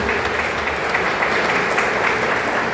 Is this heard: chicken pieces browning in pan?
no